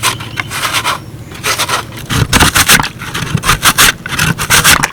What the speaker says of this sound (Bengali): আর এই আলুগুলোকে গ্রেট করে নেবো।